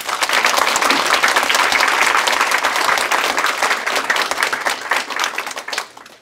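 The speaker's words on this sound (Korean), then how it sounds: "오늘 학위 수여를 받은 졸업생 여러분께 다시 한번 큰 박수를 축하해 주시기 바랍니다." Audience applause for graduates at a Korea University degree ceremony, a dense, steady clapping crowd that stays loud for about six seconds before thinning and tapering off at the end.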